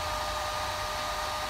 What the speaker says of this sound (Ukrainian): включаю фен на мінімальну потужність